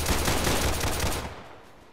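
Gunfire rattles in the Roblox game War Simulator as a dense burst of rapid shots that fades out toward the end, with no voices over it.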